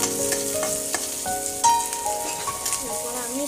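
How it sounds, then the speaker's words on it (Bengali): Chopped green chillies sizzle and crackle in hot oil in a pan while being stirred for a paneer dish, a close steady frying hiss with sharp pops and scraping stirs. "তারপরে আমি দেবো কাঁচা লঙ্কা কুচি, ভালো করে ভেজে নিতে হবে।"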